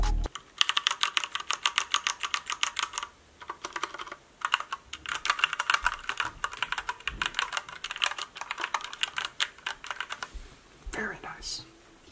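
Rapid typing on a PewDiePie-branded mechanical keyboard with textured WASD keys, close and crisp clicks in bursts separated by short pauses, ending with a brief louder knock.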